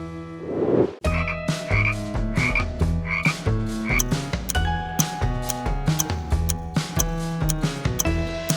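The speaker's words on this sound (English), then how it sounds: "Frog! That's right." A frog croaks repeatedly in a steady, rhythmic series of loud, resonant calls, played alone with no talking, as one round of an animal-sound guessing quiz.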